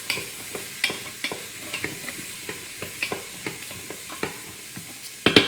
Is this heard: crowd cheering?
no